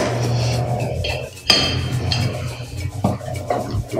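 Garlic cloves being chopped with a knife on a board while about twenty are prepared for a pre-Hispanic dish, giving irregular knocks and clinks of the blade with a steady low hum underneath.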